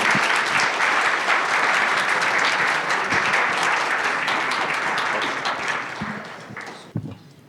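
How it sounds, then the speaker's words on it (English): An audience applauds a panel at an AI literacy day event, a dense sustained clapping that holds steady, then thins and fades out toward the end with a few last claps. "let's give another big round of applause to our first panel"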